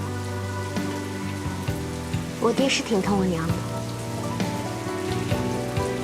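Steady rain falls outdoors at night in an imperial palace setting, a constant wash under soft background music, while someone speaks briefly over it.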